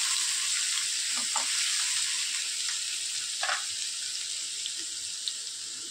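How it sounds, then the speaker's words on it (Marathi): Cumin and garlic sizzle in hot oil with a steady, bright, loud hiss. A few faint clinks of a utensil come through now and then, and nobody speaks. "तेल तापलंय, जिरे घालते, लसूण घालते। लसूण थोडा परतून घेऊ।"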